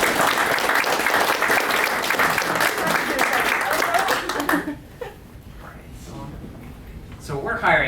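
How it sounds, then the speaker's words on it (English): Audience applause at a Boston virtual reality meetup, loud and steady for several seconds, then dropping away abruptly to quieter room noise with a few remaining claps and murmurs. "Let's give a team around of applause."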